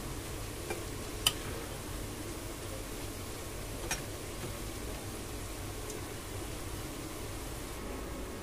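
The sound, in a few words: onions frying in a pan for chicken biryani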